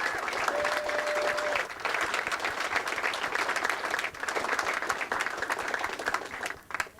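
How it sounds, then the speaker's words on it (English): A crowd gives a sustained round of applause at a Knights of the Blue Nose gathering, steady dense clapping that carries on loudly for about seven seconds before tapering slightly at the end. "Okay, a round of applause for all our recent Bluenose people."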